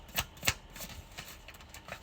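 Tarot cards shuffled by hand in a few quick riffling bursts, close and fairly quiet, with short pauses between.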